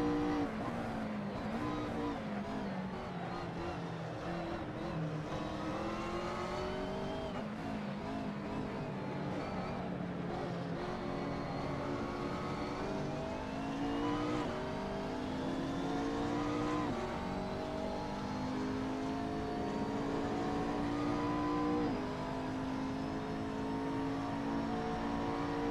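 Race car engines in Assetto Corsa career mode, a McLaren dueling a BMW on the last lap, droning continuously with rising and falling pitch as gears shift, loud and close, several cars layered together.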